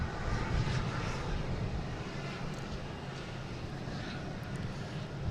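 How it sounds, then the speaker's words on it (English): Jet engines of a British Airways Airbus A380 at Boston Logan International Airport, a continuous low, broad rumble that holds steady at a distance with no one speaking over it. "We got British Airways A380 heading out back."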